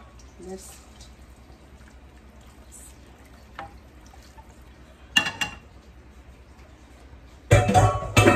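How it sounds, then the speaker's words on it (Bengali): Water goes into a hilsa fish and eggplant curry to make the gravy: a quiet stretch, then a brief splash and a louder, sustained pouring gush near the end, with faint voice in the background. "ঝোলের পানি দিয়ে দিই এটার সাথে।"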